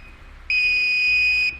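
A circuit tester probe on the green brake signal wire of a trailer wiring setup on a 2018 GMC emits a steady, loud electronic beep that starts abruptly and holds for about a second before cutting off.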